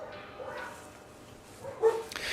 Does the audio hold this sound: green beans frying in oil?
no